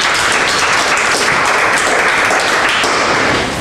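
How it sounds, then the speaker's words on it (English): Audience applause at a blockchain and business meetup welcoming the speakers, steady dense clapping filling the room at close range for the whole stretch with no one talking over it. "let's give them a nice warm round of applause"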